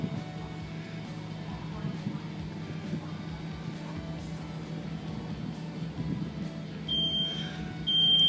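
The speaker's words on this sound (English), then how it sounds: "The smoke detector is activated in less than 45 seconds from the time that we had ignition" A low rumbling background from a fire burning in a room, then a high-pitched smoke detector alarm beeps twice near the end, fairly faint and distant.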